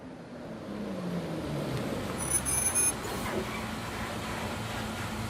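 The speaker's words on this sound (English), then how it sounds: "The sound of an engine working brought me back to reality. A bus pulled over." A bus engine idles in the video game Everlasting Summer, a low, steady rumble with a continuous hum and a brief faint high-pitched tone partway through, no voices.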